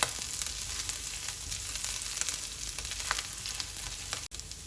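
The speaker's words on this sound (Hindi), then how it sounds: "इसे हल्के से सौते करना, बिल्कुल लो फ्लेम पे" Chopped green chillies sauté gently in a pan over a low flame for samosa filling, a steady, soft sizzle and crackle heard close up without any talking.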